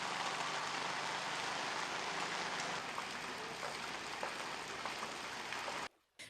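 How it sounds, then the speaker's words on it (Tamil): Heavy, continuous rain falls during flooding in hill-country estate areas, a dense steady hiss that cuts off abruptly at the end. "தொடர்ச்சியாக பெய்து வரும் பலத்த மழையினால்"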